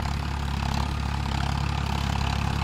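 Farmtrac 60 tractor with its diesel engine running, a loud, close, steady low rumble with an even throbbing pulse and no pauses.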